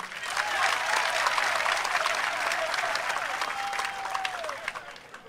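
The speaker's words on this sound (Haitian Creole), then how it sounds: "Un gros applaudissement pour l'équipe ça." A crowd of several thousand people gives the team a big round of applause, dense sustained clapping with some crowd noise that fades gradually toward the end.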